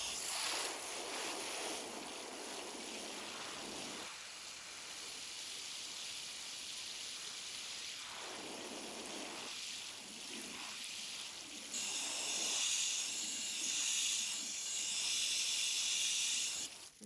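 A garden hose pours water onto potting soil, a continuous bright hissing spray that dips and swells in bursts, soft and close, with a louder stretch near the end.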